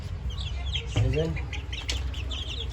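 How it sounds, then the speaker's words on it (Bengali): Cock chickens and poultry cluck close by in a farmyard corner, with a few short bursts over a steady low background while someone speaks briefly. "কক মুরগিও আছে 2-4টা, পোলট্রিও আছে।"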